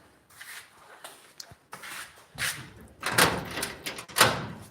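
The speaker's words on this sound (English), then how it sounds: "Let me open the door, please." A door is opened in a home in Nigeria, a series of scraping, rattling and thudding bursts growing louder toward the end, close by with no talk.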